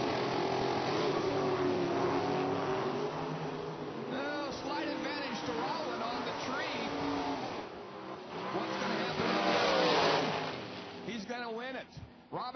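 The Rowland drag racing car makes a run at an IHRA Pro Am event in Cordova, a loud sustained engine roar with shifting pitch under continuous announcer commentary over a PA.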